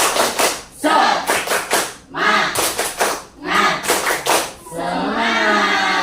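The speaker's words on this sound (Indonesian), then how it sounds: "Yuk kita tepuk tangan lagi biar semangat." A group does a rhythmic spirit clap in a classroom session, bursts of loud, close clapping in patterned groups with short breaks between them, ending in cheering voices.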